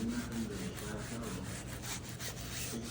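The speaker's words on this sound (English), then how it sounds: "I'm scrubbing it" A black scrub pad works over a surface during a deep clean of barracks, giving a steady, close, abrasive rubbing with quick back-and-forth strokes and no pauses.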